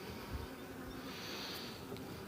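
Honeybees buzz in and around an open hive in a steady, close hum, with individual bees droning past and no voices.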